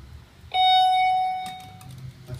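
A Dover traction elevator's bell gives a single clear electronic ding that rings out and slowly decays, with faint background noise and a couple of soft knocks afterward.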